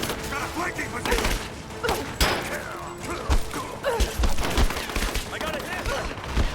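Gunfire in Rise of the Tomb Raider, with repeated sharp shots and thuds scattered through a busy battle mix while voices call out over the action.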